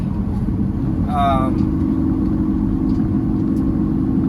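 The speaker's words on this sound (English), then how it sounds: "here's the traffic." Road traffic heard from inside a truck cab: a steady, loud low engine rumble that fills the whole stretch, with a brief voice-like or horn-like tone rising above it early on.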